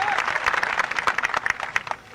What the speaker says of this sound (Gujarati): બધા તમે આયા છો એ મહેમાનો, આગેવાનો અને જેટલા કલાકારો છે એટલા બધા તાળીઓથી જોરદાર વધાવજો.